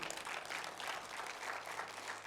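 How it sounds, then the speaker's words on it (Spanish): Church congregation applauding in a Spanish-language service, a continuous wash of clapping at moderate level, steady for a couple of seconds with no voices on top. "Denle un aplauso al Rey de Reyes."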